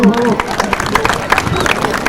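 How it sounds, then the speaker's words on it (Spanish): A crowd at an Inti Raymi festival awards ceremony in San Francisco claps and cheers in a dense, continuous burst, close and loud, with voices mixed into the noise. "Un aplauso, por favor."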